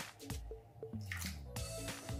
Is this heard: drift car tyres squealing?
no